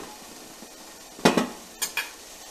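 Gooseberries being placed into an idli steamer pot of boiling water: a few sharp metallic clinks and clatters of utensils in quick pairs over a faint background hiss, close and without talk.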